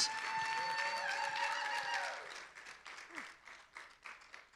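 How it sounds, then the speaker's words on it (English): An audience applauds and cheers at a masked singer show, a dense round of clapping with a voice over the top that tapers into scattered claps. "Let's give them one round of applause"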